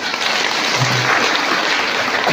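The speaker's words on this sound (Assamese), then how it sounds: "সকলোৱে হাত তালি মাৰিব।" Audience applause at an annual Catholic parish gathering at St. Joseph's Church, Kabirali: dense, steady clapping from a large crowd filling the hall throughout, with no speech over it.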